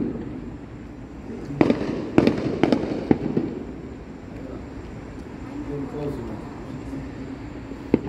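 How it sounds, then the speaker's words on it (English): Fourth of July fireworks burst in a quick cluster of sharp, fairly close bangs, then trail off into a quieter background of crowd murmur and faint distant rumbling. "I don't know how long these fireworks are gonna end"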